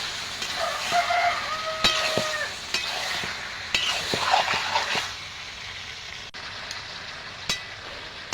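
Mutton pieces hit oil with fried onion, garlic and tomato, bursting into a loud close sizzle with repeated scraping stirs and clinks of a spatula against the pan.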